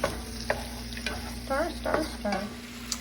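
Chicken frying in a pan as sauce is stirred in, with soft sizzling under repeated scraping strokes of a utensil against the pan, close and moderately quiet, plus a steady high electrical whine in the background.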